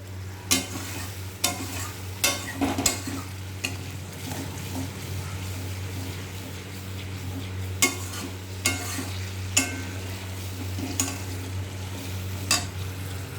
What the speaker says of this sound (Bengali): সামান্য একটু জল দেব মশলাটাকে কষা হওয়ার জন্য।